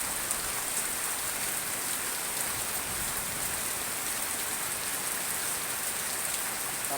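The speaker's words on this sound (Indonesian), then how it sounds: "Nah ini kebetulan beberapa hari sore terus ini hujan." Steady heavy rain pouring down in the afternoon in South Cikarang, a dense continuous hiss of drops on surfaces, close and uniform with no voices.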